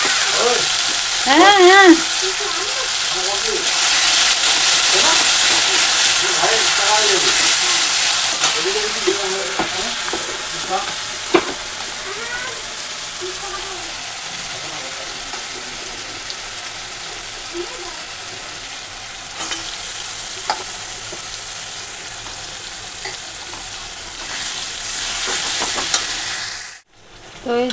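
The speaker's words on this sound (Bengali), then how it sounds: "আর আগে আমি এই যে রসুন থেতো আদা থেতোটা দিয়ে দিই।" Crushed garlic and ginger hit hot oil with whole spices, sizzling loudly and close at first, then settling into a softer, steady frying hiss; a voice briefly murmurs early on.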